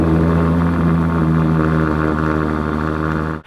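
Lamborghini-style Monza sports car on stock exhaust without a Novitec system, its engine running with a steady loud mid-pitched drone and harmonic hum from start to finish, cutting off abruptly at the very end.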